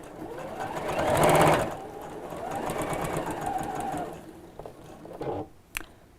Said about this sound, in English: just sew up to the seam that I've just made